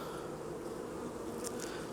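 Steady, close buzzing of many honeybees around a colony preparing to swarm, with queen cells present, a continuous low hum filling the whole stretch.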